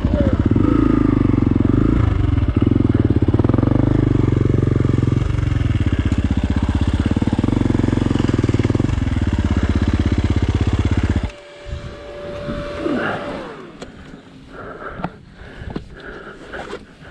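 Motorcycle engine held on the throttle in an open-pit mine, a loud, steady droning rev that falls and rises for about eleven seconds before cutting off, leaving quieter rustles and clatter.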